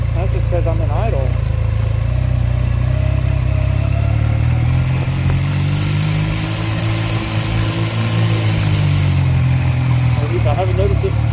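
A motorcycle engine idling close by, a loud, steady low rumble with a shifting hum that runs through the whole stretch, while a voice talks over it.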